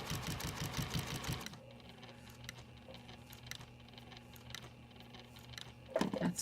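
Sewing machine stitching quilt binding, a fast, rhythmic, close mechanical clatter for about a second and a half, then a quiet motor hum with faint handling noises, ending in a short burst of clicking.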